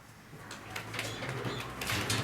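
Pigeons coo in low, soft repeated calls, joined by light rustling and scratching in a small enclosed pigeon loft.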